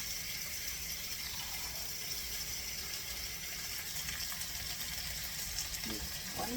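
Water pours steadily into a pan, a soft continuous splashing close by at low volume.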